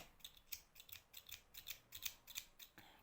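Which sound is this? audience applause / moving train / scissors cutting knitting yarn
scissors cutting knitting yarn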